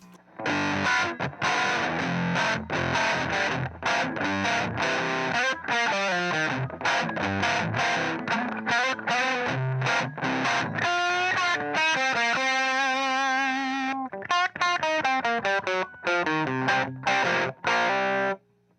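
A heavily fuzzed electric guitar, played through an Aclam The Mocker fuzz pedal, plays a busy riff with a buzzy, saturated tone, loud and continuous with brief gaps between phrases.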